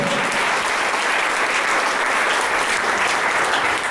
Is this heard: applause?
yes